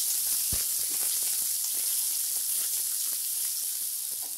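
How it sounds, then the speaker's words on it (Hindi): Chopped onion, one medium-sized, fries with cumin in a pan, giving a steady close sizzle and hiss with small crackles and pops and one brief clunk near the start. "प्याज को हम गोल्डन ब्राउन होने तक अच्छे से भूनेंगे।"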